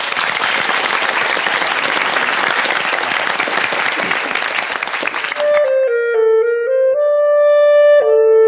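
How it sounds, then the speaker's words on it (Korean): Audience applause fills the first five and a half seconds, dense and steady, then stops as a clarinet begins sustained melodic notes of the Oldboy soundtrack. "박수로 청해보겠습니다."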